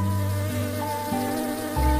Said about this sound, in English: The angry bee flew away.